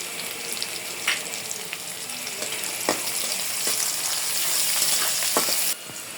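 Chopped onion, bay leaf, cardamom and cinnamon frying in oil in a pan, a close, continuous crackling sizzle with a few sharp spatters and stirring knocks, briefly dipping near the end.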